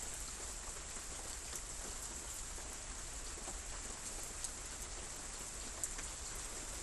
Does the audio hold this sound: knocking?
no